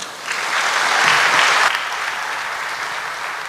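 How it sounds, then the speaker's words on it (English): Audience applause fills a hall during a university talk at IIT Kanpur, a dense, steady wash of many hands clapping that swells toward the middle and then eases slightly while continuing. "deserves a big round of applause from everyone"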